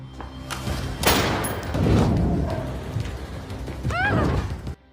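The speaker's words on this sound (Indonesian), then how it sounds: "Lina tembakan senjata keluar jendela agar polisi berdatangan" Gunshots fired out of a window in a film, a burst of heavy bangs and thumps with mechanical clatter and a rising whine, loud and dense before stopping abruptly.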